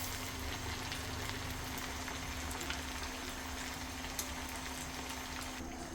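Avalakki chakali, spirals of beaten-rice dough, fry in hot oil with a steady, dense sizzle and crackle that holds evenly throughout, with no voices.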